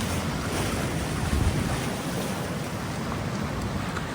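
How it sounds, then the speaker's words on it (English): Incoming tide waves on the Pacific Northwest coast, a steady broadband surf roar with wind buffeting the microphone, continuous and close with no pauses. "I can tell the tide is coming in."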